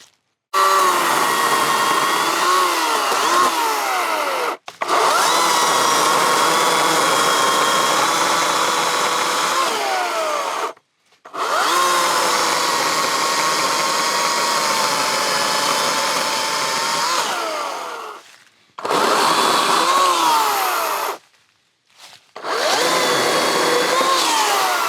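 Chainsaw cutting storm-damaged oak logs outdoors, a loud steady buzzing whine running in several long bursts separated by brief pauses, close to the microphone.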